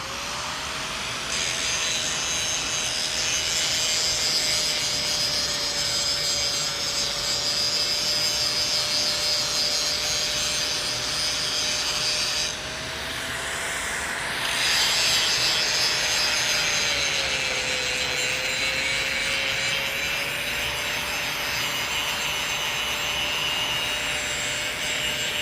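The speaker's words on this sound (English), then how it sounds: "I'm going to grind that off to clean metal." A grinder steadily scours iron oxide fire scale from a piece of Damascus steel, producing a loud, continuous abrasive hiss with a steady motor whine underneath, briefly dipping and shifting midway before resuming.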